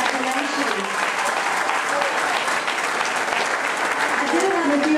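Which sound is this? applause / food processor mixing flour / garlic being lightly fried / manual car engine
applause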